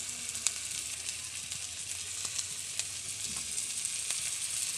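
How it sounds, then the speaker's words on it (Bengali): Garlic and ginger paste sizzles steadily in hot oil in a pan for a Bengali rohu fish curry with okra and potato, a continuous bright frying hiss with a few small pops and faint stirring. "এরপরে রসুন বাটা দিয়ে দিচ্ছি।"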